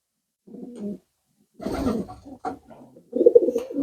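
Pigeons at a village loft, among them a young yellowish bird bought at a market, give a few short, low cooing calls in separate bursts, close by and with no talk.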